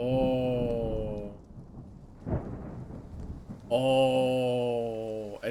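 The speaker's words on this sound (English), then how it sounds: "Rain! Honest to goodness, rain!" Rain and thunder in the video game Triangle Strategy: a low rumble of thunder with a rain-like hiss, set between stretches of sustained game music.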